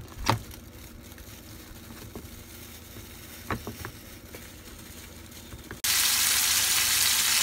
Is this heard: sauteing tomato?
yes